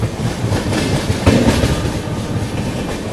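Brahmaputra Mail train running between Rangiya Junction and Kamakhya toward Guwahati, a loud, close steady rumble of wheels on rails with rhythmic clickety-clack over the track joints, no voices.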